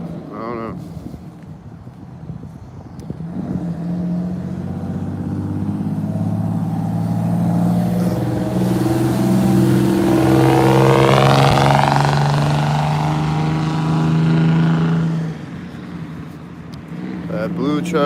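A loud white truck and a blue truck drive past together on a street, engine roar building to a peak and then fading, with shifting revving tones and traffic close by.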